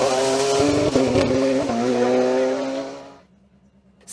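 A Silvercar CS Turbo race car climbs a hill-climb course at Mont-Dore–Chambon-sur-Lac, its loud engine note roaring close by for about three seconds with a pitch shift before cutting off sharply into near silence.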